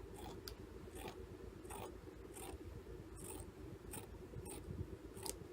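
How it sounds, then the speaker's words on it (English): Scissors snip fabric for a reborn doll's Boppy pillow in a steady run of about nine quiet, evenly spaced cuts, close by and faint, with no voices. "I'm just probably going to cut off just a little bit off this edge"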